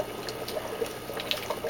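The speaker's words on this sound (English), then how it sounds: "So right now the Fusion 700 pump is on high, and the bubbles coming out pretty good here." A Fusion 700 aquarium pump running on high in a saltwater test tank with an upflow algae scrubber, giving a steady wash of bubbling, trickling water with small splashes, fairly quiet and with no talking.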